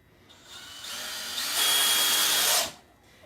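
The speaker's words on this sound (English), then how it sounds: "Get your handy dandy drill gun out, because every cake decorator needs one" A handheld power drill whirs steadily for about two seconds, revving higher before cutting off, close and loud, used while building a 3-D pancake-shaped cake; no talking.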